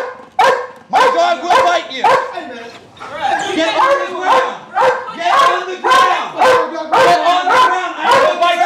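A police dog barks in rapid, loud, repeated volleys close by during a standoff with a suspect, the barking steady and dominant over the whole stretch.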